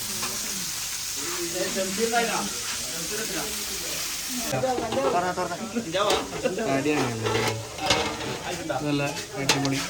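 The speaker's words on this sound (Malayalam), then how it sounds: "ചേച്ചി നമ്മളെല്ല മസാല ഇട്ടിട്ട് പൊരിക്കുന്നുണ്ട്" Steady sizzling and crackling of mussels frying in masala in a pan, with occasional stirring, while people talk nearby.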